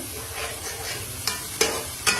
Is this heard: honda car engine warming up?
no